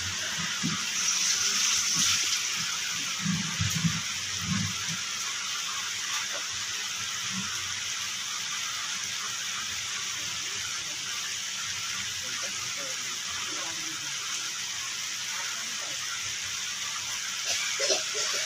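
Water pours and gushes into a cooking pan during the simmering of an egg curry with coconut milk, a steady broadband wash that runs throughout, with a few dull knocks early on.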